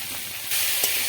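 Spices and vegetables for a spinach and prawn dish hiss and sizzle steadily in a hot pan, the frying growing louder partway through as chopped tomato pieces go in, with a brief clatter near the end and no talk.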